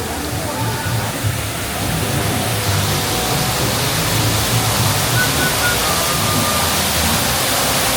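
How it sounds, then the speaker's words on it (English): An indoor waterfall at a Rainforest Cafe restaurant makes a steady, dense rushing roar that stays even and loud throughout, with faint murmurs of the dining room underneath. "Very nice waterfall."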